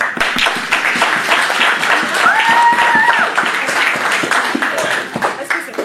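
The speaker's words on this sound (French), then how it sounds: "Pour les échanges des alliances, je peux les applaudir." Applause at a wedding ceremony in Villiers-le-Bel, France, greeting the exchange of rings: steady, dense clapping from the gathered guests that holds for several seconds, with faint voices and a brief whistle-like tone mixed in.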